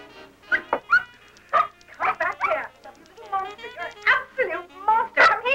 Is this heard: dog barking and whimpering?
yes